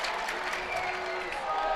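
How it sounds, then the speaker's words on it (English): Arena crowd murmuring and reacting during a women's college basketball free throw between Michigan and Michigan State, a steady moderate wash of voices and scattered claps throughout with no individual speech. "we are hearing it from the crowd on this free throw"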